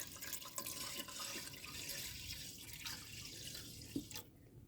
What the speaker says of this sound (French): nous allons maintenant poser notre marmite au feu et ajouter un peu d'eau